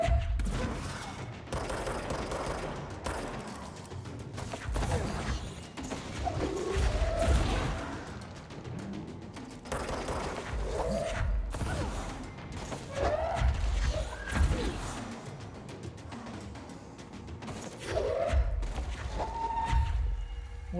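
Gunfire and action in the video game Control: repeated bursts of shots, thuds and crashing impacts fill the scene continuously at high density, with loud layered combat effects throughout.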